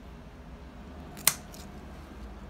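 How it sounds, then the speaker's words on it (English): A single crisp snip of scissors cutting a houseplant stem during repotting, close and brief against a quiet room hum. "I'm gonna cut here and see what happens"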